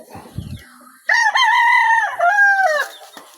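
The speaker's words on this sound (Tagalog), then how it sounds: "Puro manok ni Kuya Jun to." A rooster crows once, long and loud nearby, after a few soft clucks from chickens.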